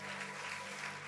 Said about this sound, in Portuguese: Aplauda su fuerza al Señor.